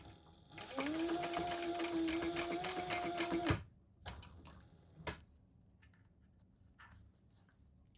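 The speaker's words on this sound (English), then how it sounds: "And stitch that together at the seam allowance in the pattern" A sewing machine stitches a crossbody bag seam in one steady, close run of about three seconds, with a quiet rhythmic whir and needle clatter, followed by a few faint handling clicks.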